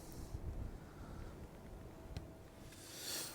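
Steady night wind blowing beside the tidal Great Ouse river at King's Lynn, a low continuous rushing with a brief gust midway and a brighter swell near the end, shaking fishing rods, with no voices.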